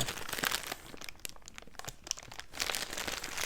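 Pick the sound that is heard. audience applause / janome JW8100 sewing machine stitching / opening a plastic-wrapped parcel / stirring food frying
opening a plastic-wrapped parcel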